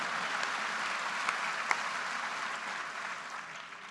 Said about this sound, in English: Sure, that does deserve a round of applause.